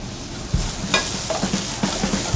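Shallots sizzling in a hot pan as the base of a beef Wellington sauce: a steady, close hiss with scattered soft taps and scrapes of stirring.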